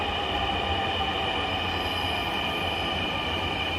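Dhaka Metro Rail train running, a steady continuous rumble and rail hum with a faint wheel squeal, close and even throughout with no talking.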